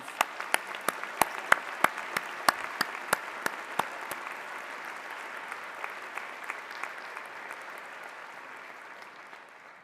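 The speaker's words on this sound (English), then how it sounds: "Applaud them with me, your families." Audience at a university convocation ceremony for arts, fine arts and music graduates breaks into loud, sustained applause, sharp claps that gradually thin and fade toward the end.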